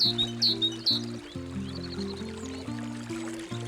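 High bird chirps flutter in short bursts over steady, low sustained musical tones.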